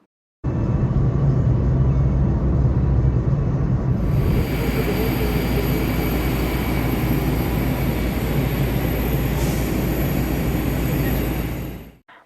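A Docklands Light Railway train at a London stop makes a steady loud rumble and whine that fills the whole span, shifting tone partway through and fading out at the end.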